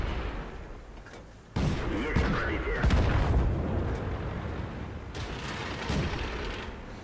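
Light tank gun firing APTR rounds in a tier 3 tank video game, a few heavy booming shots with rumbling decay, moderately loud against a noisy game background.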